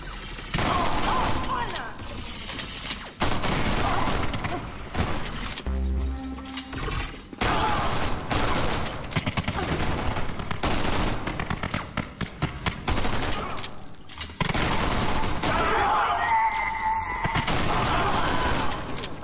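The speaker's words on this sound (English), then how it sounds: "Who's shooting my robot now?" Rapid bursts of gunfire in the VR shooter Wanted Killer as enemies shoot at a robot. The loud volleys are broken by short gaps, with a voice speaking at times.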